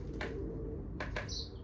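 A blue tit taps its beak against a mirror outdoors, giving a few quiet, sharp knocks in two short clusters, with a faint bird call at the end over a low steady background.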